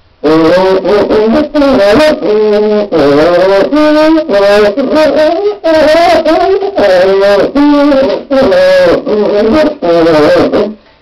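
A cuíca squeaks and moans in repeated rhythmic bursts, its pitch sliding up and down as the head is pressed between strokes, loud and close.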